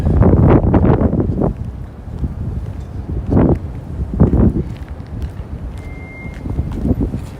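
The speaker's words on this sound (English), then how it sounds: "Oh, the wind sounds picked up." Gusting wind buffets an unshielded microphone on a freezing cold day downtown in Toronto, with loud low rumbling bursts that rise and fall irregularly throughout.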